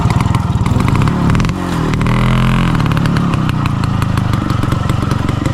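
A motorcycle engine revs loudly and close, holding a buzzing, rattling drone that dips briefly, then surges back to a sustained high rev with no talk over it.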